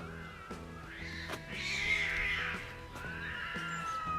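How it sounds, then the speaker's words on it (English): Cats fighting among the ancient ruins of Ephesus, Turkey, give off long, strained yowls and meows at close range, swelling and fading over a low background of steady noise and faint clicks, with no voices. "Oh, there's some cats going at it."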